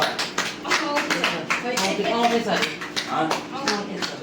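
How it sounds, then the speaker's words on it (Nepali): Quick, irregular hand claps patter close by at a wedding, mixed with murmuring voices in the background. "ताली ताली"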